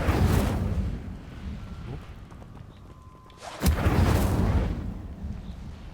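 A fire spell cast in Hogwarts Legacy, a rumbling whoosh of flame that swells loud at the start, fades, then bursts again sharply midway and roars on before tapering.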